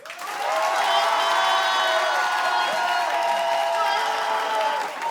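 A studio audience claps and cheers loudly in a sustained wave for a contestant named Mirza during a public vote on a haircut makeover, with whoops and shouts rising over the broad applause.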